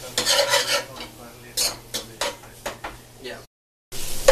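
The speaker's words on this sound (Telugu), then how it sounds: "బాగా మిక్స్ చేసి ఒక 2 నిమిషాలు మీరు సిమ్లో పెట్టండి ఫ్లేమ్ని." A spoon scrapes and clanks against a pan while stirring cauliflower curry with ginger garlic paste, in uneven bursts of metallic stirring separated by short gaps.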